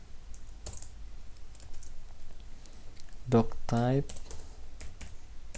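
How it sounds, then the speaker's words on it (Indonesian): Fast clicks of a computer keyboard while someone types HTML run steadily at close range, and someone briefly speaks over the tapping. "Di sini kita ketikkan seperti ini"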